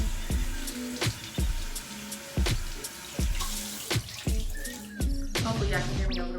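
Water runs from a bathroom tap during face washing, a steady splashing hiss broken by repeated knocks and clunks of hands in the sink, close and fairly quiet.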